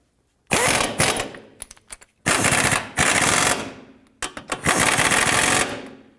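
A ratchet wrench tightening two nuts and a bolt during a clutch kit replacement on a 2006–2011 Honda Civic, with loud, rapid clicking bursts separated by short pauses, close up and without talk.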